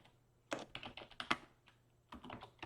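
Typing on a computer keyboard: a few short, quiet bursts of key clicks with brief pauses between them.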